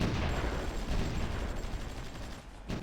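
Artillery fire from the strategy game Supreme Ruler Ultimate forms a dense, continuous barrage of booming, crackling rumble that holds steady throughout, with no talking.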